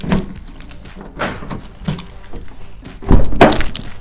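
Manual key turning in the door lock of a Ford Transit Custom van, a few close metallic jangles and clicks followed by a louder thunk of the lock releasing, with no talking.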